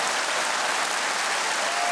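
Comedy club audience at a live stand-up show breaks into steady, dense applause, a loud continuous wash of many hands clapping together without pause.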